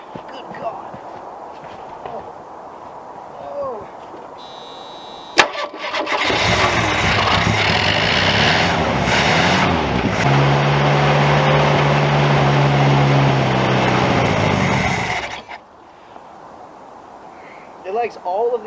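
A classic Ford Pinto engine cold starts with a sharp catch, then runs roughly and revs hard for about ten seconds before cutting off, with people talking before and after.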